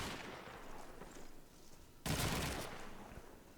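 A burst of video game gunfire erupts suddenly mid-clip during a competitive match, loud and dense like a quick volley, after a quieter stretch of background noise.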